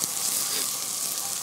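Fettuccine with prawns sizzling and frying in a pan, a steady, fairly quiet crackle with faint stirring and no talking.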